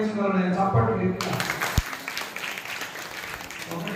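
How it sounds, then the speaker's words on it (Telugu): Applause from an audience at a devotional bhajan and satsang gathering, breaking out after about a second and continuing as dense, steady clapping with a sharp knock partway through. "చప్పట్లు గట్టిగా."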